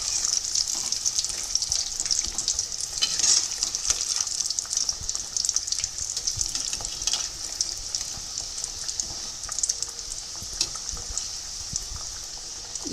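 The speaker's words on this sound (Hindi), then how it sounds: "इसे हमें गोल्डन ब्राउन फ्राई करना है।" Chapdi for undhiyu fry in hot oil, a continuous bright sizzle and crackle with small bubbling pops, steady and close throughout with no talking.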